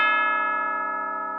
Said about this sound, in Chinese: 晚自习下课铃声响起时